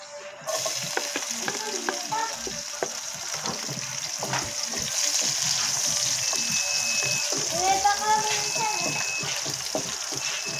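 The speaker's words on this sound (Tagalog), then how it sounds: "Magigisa na tayo mga kabagyer." Onions sauté in a hot pan for Filipino pork bistek, a steady sizzle that builds with stirring scrapes and light clatter, close by, with some faint speech-like sounds in the background.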